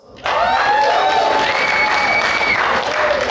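Loud applause and cheering burst out suddenly at a stand-up comedy show, with whoops and shouted voices over a dense, sustained clapping crowd.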